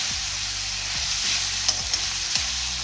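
Prawns and onion sautéing in a pan over a medium stove, a steady frying sizzle with scraping stirs of the spoon every second or so, close and alone without talk.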